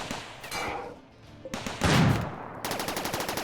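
Automated turrets in RimWorld fire on an attacker in an extreme desert setting: scattered shots and thuds, then a steady rapid burst of evenly spaced gunfire, loud and close.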